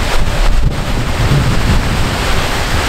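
Roaring rush of a waterfall near Seljalandsfoss on Iceland's south coast, a loud, dense, continuous wash of falling water mixed with wind buffeting the microphone.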